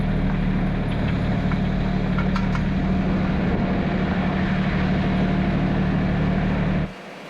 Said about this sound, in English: So I'm going to go ahead and pull the tractor out here.